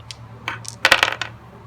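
Two dice rolled during a Bookopoly reading game: a quick burst of hard, bright clicks and clatters as they tumble and settle on a surface, close and alone.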